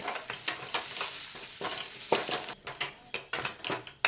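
Drumstick pods are stirred and sautéed in a pan over a medium gas flame. Repeated close scraping strokes sound over a soft sizzle, followed by sharper utensil clatters toward the end.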